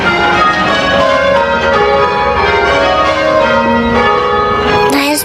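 Church bells rung with ropes by bell ringers peal in continuous rounds, loud and close, with overlapping tones sounding one after another in a steady sequence.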